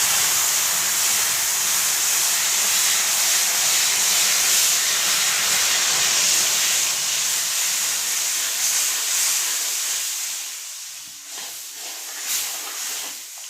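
A cup of milk poured into a hot kadhai over a low gas flame and stirred continuously while making coconut ladoos: a loud, steady steam-like hiss that eases off and grows patchier toward the end.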